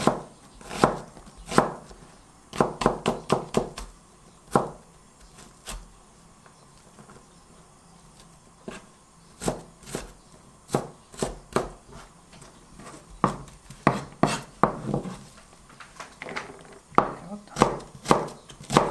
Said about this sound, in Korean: 칼집을 넣어서 이렇게 잘라주세요